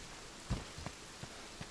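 Rain falling in a forest in the video game Monster Hunter World: a soft, steady hiss of rainfall with a few faint drop taps, quiet and without voices.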